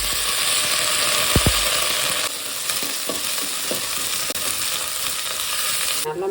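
Onions and peas frying in a pan with cloves, cardamom and green chillies for gongura pulao, giving a steady close sizzle with a few scraping stirs and clicks and no talk.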